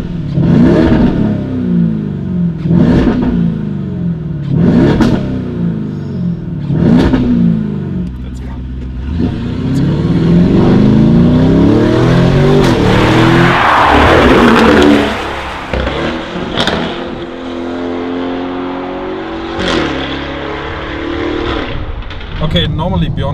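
A Lamborghini Urus fitted with a Novitec body kit drives past loudly, engine revving and surging with several sharp exhaust pops and crackles, the roar swelling mid-pass before easing off.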